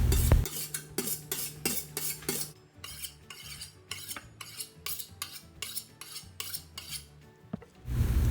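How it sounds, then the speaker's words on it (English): Kitchen knives being sharpened give a quick, rhythmic run of bright metallic strokes and scrapes, fairly faint and close, with no voices. "Make sure that you always sharpen your knives."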